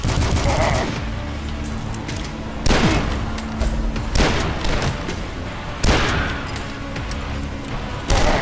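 Shotgun blasts in the video game DUSK, several heavy booming shots spaced a couple of seconds apart over a dense, loud background of game action.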